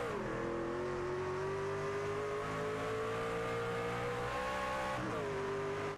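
Race cars in iRacing at Canadian Tire Motorsports Park brake into a corner, engines droning loud and steady before a sharp drop in pitch as they downshift into second gear.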